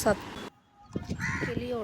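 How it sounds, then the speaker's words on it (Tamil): Harsh, close bird calls from a parrot at a rainy-season rooftop garden: one short raspy squawk, a pause, then a longer run of grating, wavering cries. "கிளி சத்தம் செம்மையாக இருந்துச்சு"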